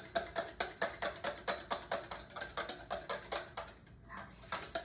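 Rapid metallic whisking of egg whites in a bowl for apple fritter batter, a steady fast rhythm of clinking strokes close up and fairly loud, with a brief pause near the end before the beating resumes.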